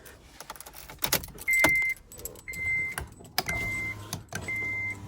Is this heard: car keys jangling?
yes